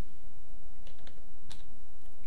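Typing on a computer keyboard while entering text in a photo frame editor, a short run of sharp separate key clicks, close and fairly loud, over a low background hum, no talking.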